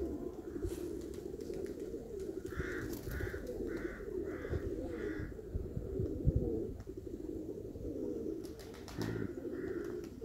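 Pigeons cooing at a dovecote in the evening, a run of soft repeated coos in the middle and again near the end, with chirps and outdoor noise underneath.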